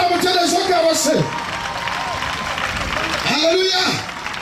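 A church congregation applauds and acclaims in loud, sustained crowd noise with clapping and raised, shouting voices, while an amplified voice rises and falls over it in exclamation.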